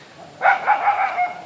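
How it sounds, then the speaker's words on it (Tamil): A dog barks in a short burst of several quick yaps at moderate distance beside a roadside through a herbal forest, following a quiet moment. "குரங்கு வர பார்த்தா நாய் தான் வருது."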